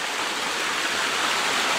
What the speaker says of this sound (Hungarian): egy nagyon fain kis vízesés van